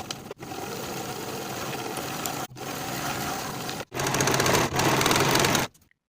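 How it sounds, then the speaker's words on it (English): A sewing machine stitches a seam on jacket panels in several sustained runs of steady mechanical whirring, each broken by a short pause, the last run louder than the rest. "Sew again with a 3/8 inch seam allowance and finish the raw edges together"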